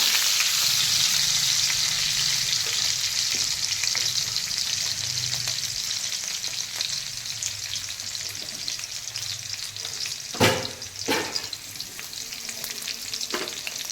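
Green chillies crackle and sizzle in hot oil in a continuous, loud frying hiss, broken by a few sharp clatters of a utensil against the pan near the end.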